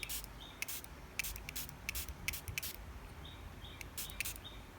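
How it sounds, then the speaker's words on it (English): Several quick, hissy bursts from a spray bottle spraying water onto watercolor pans, spaced irregularly, with faint background noise between them. "take a spray bottle and spray the colors to try to activate the pans"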